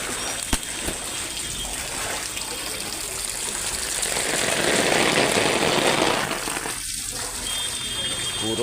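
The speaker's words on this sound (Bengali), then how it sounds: "পুরো রাস্তাটাই পানি দিয়ে ভরে গেছে।" Floodwater covers a residential street after a night of rain, making a steady broadband rushing wash that swells through the middle and then eases slightly.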